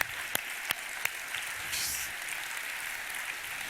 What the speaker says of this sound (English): Can we give Jim a big round of applause and thank him for his work?